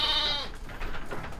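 Merino, fat-tailed, Merino-cross and Garut sheep being checked for pregnancy, with a loud, close bleat in the first half second followed by fainter, rougher bleating and pen noise.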